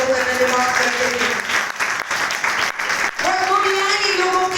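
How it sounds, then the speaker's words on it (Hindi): Congregation clapping in praise at a Good Friday church service, sustained applause mixed with singing or vocal tones and voices throughout, loud and close. "ताली बजाकर प्रभु का धन्यवाद करते हैं।"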